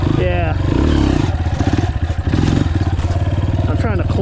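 A Yamaha TTR230 dirt bike engine is held at high revs with the clutch during a wheelie attempt. Its loud, close, buzzing drone rises and dips slightly in pitch throughout.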